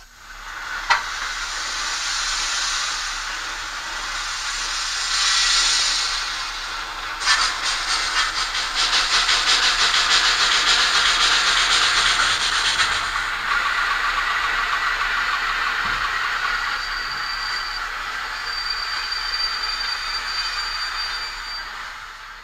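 A PIKO class 82 N-scale model steam tank locomotive runs with digital running sounds, giving a continuous loud steam hiss and chuffing that swells and fades over about twenty seconds, with a thin tone near the end.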